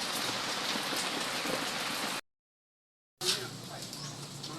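Steady rain falling on surfaces in a countryside setting, a dense hiss of drops that cuts out for about a second and then returns just as thick.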